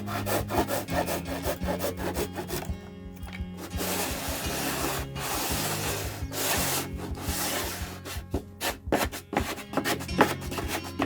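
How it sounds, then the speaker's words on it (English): A handsaw with a roughly 265 mm blade cuts the bottom edge of cedar siding, rhythmic rasping strokes close by that quicken toward the end, with brief pauses between bursts. "will use a handsaw to cut the bottom edge of the siding"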